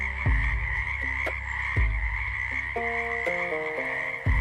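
Frogs croak at night by a dock, with a few deep, near croaks standing out over a steady tonal drone and soft layered calls.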